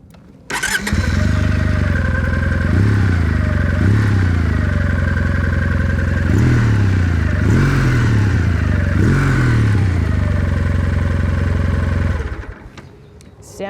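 A 2019 Kawasaki W800 Cafe motorcycle engine cranks and fires up, then idles loudly and steadily with a few brief throttle blips before cutting off near the end.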